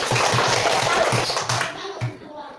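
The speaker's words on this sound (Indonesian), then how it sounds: "Oke, tepuk tangan buat mereka." Students in a classroom clap for a presenting group in a quick, regular rhythm of hand claps with some shuffling. The clapping is fairly loud at first, then thins and fades toward the end.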